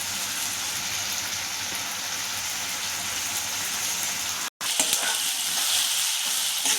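Onion and tomato sauté in a pan, giving a continuous, fairly loud crackling sizzle like light rain that drops out for a moment near the end before carrying on.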